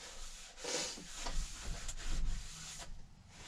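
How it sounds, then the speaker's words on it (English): A cloth rubs and wipes inside the cylinder bores of a Chevy 350 Vortec engine block, a faint, close scrubbing in short uneven strokes. "So I'm going to wipe these out individually, one at a time."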